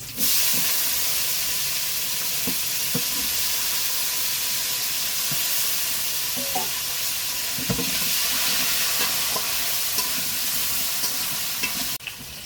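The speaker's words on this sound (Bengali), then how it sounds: "ফোড়নে দিচ্ছি জিরে" Cumin seeds sizzle in hot oil for tempering, a steady bright hiss and crackle that runs unbroken for the whole stretch, loud and close, with a few small pops and no talking.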